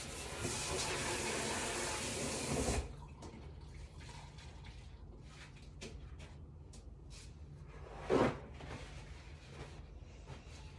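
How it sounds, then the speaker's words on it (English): Water runs steadily from a tap while a sink is rinsed of soft scrub cleaner, a continuous close splash that stops after about three seconds, followed by quiet handling noises and a brief louder splash near the end. "I'm going to rinse out my sink real quick, getting all the soft scrub off of it"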